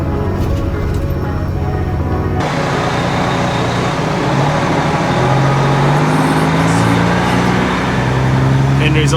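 Truck engine running as the vehicle is moved and angled on a farm before spraying fence lines; a loud, steady close rumble with rising engine tone midway and continuous broadband noise.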